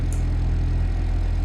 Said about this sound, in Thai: ถ้าเรากด V เพื่อสตาร์ทเครื่องมันก็จะมีเสียงแบบนี้เลย